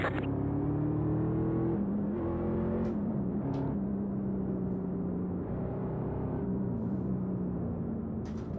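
Race car engines in the iRacing video game, an eNASCAR race, drone and whine steadily at a moderate level, with pitch shifts as cars rev and change gear, and brief sharp clicks here and there.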